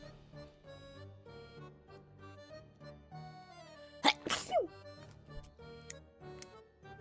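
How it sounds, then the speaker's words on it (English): A single loud, sharp sneeze bursts out midway over a quiet background of soft, sustained musical tones. "was a big sneeze"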